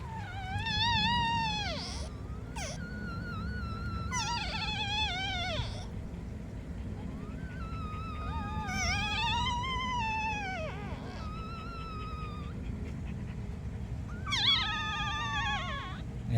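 Two newborn puppies, not yet nursing on their first day, whine and cry in high rising-and-falling squeals, calling in bursts and overlapping like a duet over a steady low background rumble.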